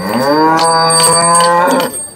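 A single long, loud cow moo, close and drawn out for about two seconds before cutting off, with no talking, at a cattle market in Modnimb, Maharashtra.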